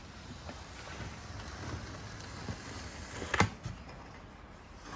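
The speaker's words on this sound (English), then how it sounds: "it's one of these blustery days." Blustery wind gusts through a heavy snowstorm in Gaylord, Michigan, a steady rough rushing roar with a brief louder buffet against the microphone partway through.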